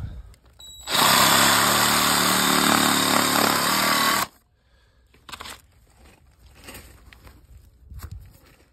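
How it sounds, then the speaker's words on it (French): A reciprocating saw blade churns through soil next to a buried fibre-optic conduit, a loud continuous rasping burst lasting about three seconds before cutting off to quiet outdoor rustling. "Je suis dans la terre, on va faire la scie sabre."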